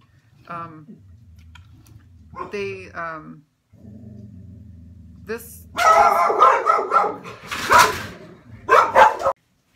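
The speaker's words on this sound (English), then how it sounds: "the dogs decided to bark ferociously at them" Several dogs bark and growl ferociously at a neighbor passing with his own dogs, short bursts at first, then loud, dense barking near the end, with some talking mixed in.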